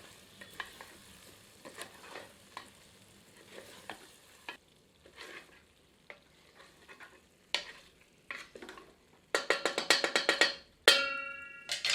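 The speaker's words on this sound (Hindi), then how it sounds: "अब इसमें तले हुए कोफ्ते सम्मिलित करते हैं। सबको मिलाकर 2 मिनट मध्यम आंच पर भूनते हैं।" Fried chicken koftas sizzle in a pan as they are stirred over medium heat, with scraping spoon strokes in uneven bursts that grow louder and more clattery near the end.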